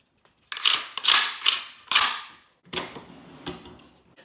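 Close, loud metallic clicks, clacks and scrapes of a KUSA KP-9 gun being taken apart by hand, about half a dozen sharp bursts spaced irregularly with short pauses and no talk.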